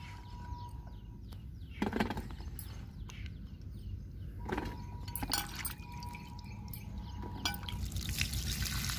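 Round organic tinda gourds are washed by hand in water, giving quiet splashes, drips and trickles with scattered soft knocks, close and faint.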